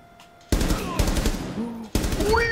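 Gunfire in a ranked Rainbow Six Siege match, fast loud automatic bursts erupting after a brief quiet lead-in, with a short gap before another burst and faint game sounds beneath.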